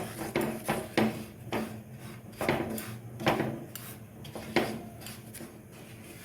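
Semolina roasts in a pan over a low flame while a spoon scrapes through it in repeated gritty strokes, about one every second, close and moderately loud with no voices.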